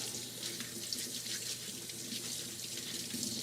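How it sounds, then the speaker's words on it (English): Potatoes are scrubbed by hand under a running kitchen tap, with a steady rush of water into the sink and faint rubbing and splashing throughout, close and with no talk. "so Asmongold, maybe you don't like this part where I'm actually scrubbing the said potatoes"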